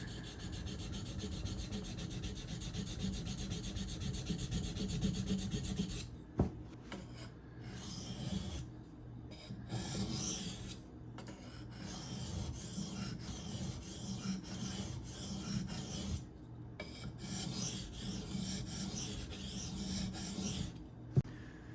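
An Esee Izula II knife blade is stroked across a 2000 grit whetstone, giving a steady rasping scrape of repeated back-and-forth passes, close and fairly quiet, with brief pauses between strokes.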